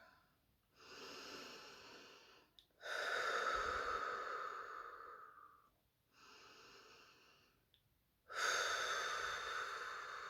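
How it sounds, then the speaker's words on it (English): Slow, deep breaths during a guided relaxation exercise: four long, airy inhale-exhale cycles, close and fairly quiet, with short silent pauses between them and no talking. "take a few deep breaths."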